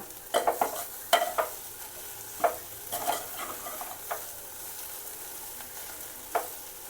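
A spoon scrapes and stirs raw banana palya with fresh coriander in a hot pan, giving a series of irregular clinks and scrapes over a soft sizzle, close and with no talking.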